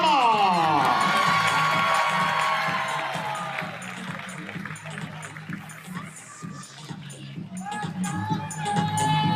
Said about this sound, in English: keep that applause coming